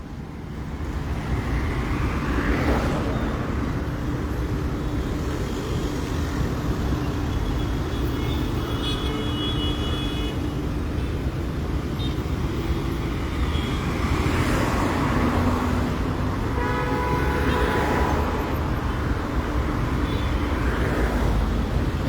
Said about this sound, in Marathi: अटल सेतू ब्रिज सद्या फूल जाल्लो मिन्स फूल ट्रॅफिक जॅम जाल्लो आसा.